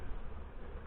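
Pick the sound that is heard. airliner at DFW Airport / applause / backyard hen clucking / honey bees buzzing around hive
honey bees buzzing around hive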